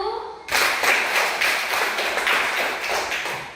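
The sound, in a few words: class clapping for group 1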